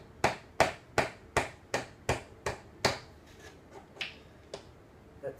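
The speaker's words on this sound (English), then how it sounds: "hammer the wheel onto the truck to make sure that the bearing is put in place" Longboard wheel hammered onto the truck to seat the bearing, eight sharp, evenly spaced knocks close by, followed by a few softer taps.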